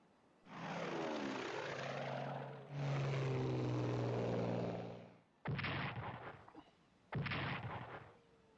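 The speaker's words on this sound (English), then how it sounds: "So, let's start out with some bombing." Bombing attack effects in a World War II strategy video game: two long roaring aircraft-and-explosion sounds with droning tones, followed by two sharp, heavy blasts, loud and close with no speech.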